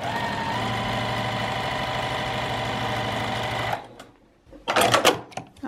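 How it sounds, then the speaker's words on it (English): A sewing machine stitches close to the folded edge of a zipper pouch: a steady, loud mechanical whir that stops partway through, followed by brief rustling handling noises. "I'm just gonna run a stitch kind of close to the edge, not quite a 1/4 inch away from it"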